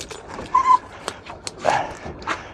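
An old dog aboard a sea fishing boat, where a small shark has just been landed, lets out several short whimpers and yips in separate bursts, fairly close and over low background noise.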